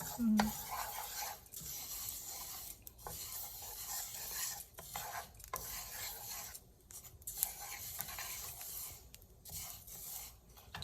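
Dry flax seeds scraped and stirred around a hot pan while roasting, giving a steady close-up gritty rasp with short pauses and scuffs throughout.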